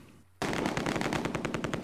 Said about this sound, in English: The enemy seems to have a ridiculously large number of machine guns firing at us.